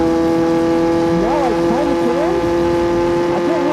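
A Yamaha R6 sportbike with an insanely loud exhaust and trouble accelerating past 8,000 RPM, heard while riding: a close, continuous, buzzing engine roar whose pitch swoops up and down as the revs change.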